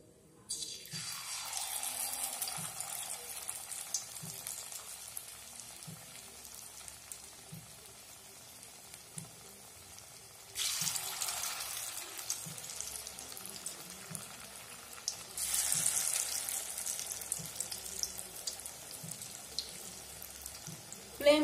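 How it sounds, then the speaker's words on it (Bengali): Bottle gourd fritters fry in hot mustard oil in a wok over a medium-low flame, a steady bubbling sizzle that swells louder in two bursts as more batter goes in, with faint clinks underneath. "বড়াগুলা ভাজার জন্য এখানে আমি কড়াইয়ে সরষের তেল গরম বসিয়ে দিয়েছি"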